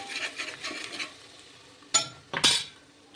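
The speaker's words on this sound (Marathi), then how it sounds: "हलवून घ्यायचं" Turmeric stirred into a pan for dal baati, soft scraping strokes followed by two sharp spoon clinks against the pan, close and quiet.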